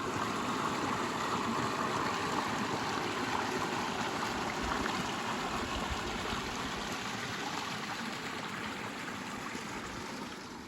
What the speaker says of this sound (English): came across some crystal clear running water